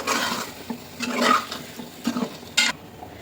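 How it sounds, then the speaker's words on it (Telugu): A spoon stirs curd into a curry in a pot, giving soft scraping and clinking strokes with a few sharper knocks against the vessel, close and fairly loud, with no talking. "వేసుకొని మంచిగా కలుపుకోవాలి"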